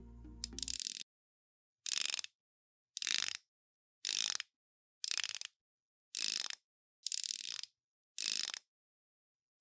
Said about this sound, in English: Typical smooth, buttery Seiko bezel with soft clicks